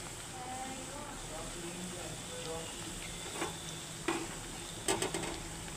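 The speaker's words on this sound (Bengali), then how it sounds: "এগুলো আস্তে আস্তে ভাজা হবে।" Square-cut nimki pastries frying slowly in oil, a soft continuous sizzle with occasional clinks and taps of a utensil, heard faintly at a distance.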